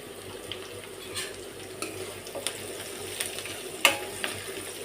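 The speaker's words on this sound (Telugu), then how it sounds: "పసుపు వేసుకొని ఒక 2 నిమిషాలు ఇలా కలబెట్టుకున్న తర్వాత" Crushed raw garlic and turmeric fry in a pan with a steady close sizzle, while a spoon stirs and scrapes against the metal in irregular clinks. No one speaks.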